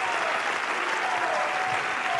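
Packed stadium crowd at Wimbledon applauding a wheelchair tennis match, a steady dense wash of clapping at moderate distance with no break.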